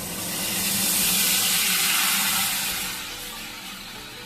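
Onion paste hitting hot oil seasoned with cloves, cinnamon and a pinch of salt for doi katla fish curry, making a loud, broad hissing sizzle that swells and then eases slightly.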